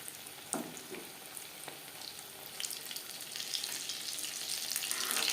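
Steady oil sizzle that grows louder and denser toward the end, with a few soft clinks early on; egg devil chops crackling in refined oil as they fry golden brown.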